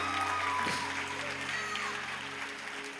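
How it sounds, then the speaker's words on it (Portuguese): A church congregation applauds in a sustained wash of clapping at moderate loudness, with a steady tonal hum and voices mixed underneath. "será que você pode aplaudir o Senhor pela vida desses visitantes?"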